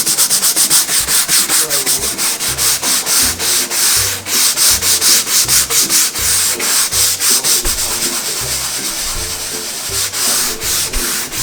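Lightly wetted sandpaper scrubs a surfskate board in steady, rhythmic back-and-forth strokes, loud and close, about two strokes per second throughout with no talking.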